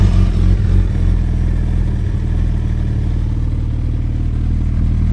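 A 2008 Suzuki GSX-1300R Hayabusa engine runs at a steady, loud, low idle close by, with a slightly stronger moment at the start and no speech.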